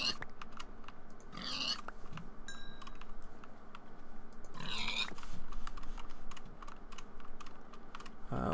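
Pigs grunt in a blocky survival video game, with two short oinks standing out over continuous close computer keyboard typing.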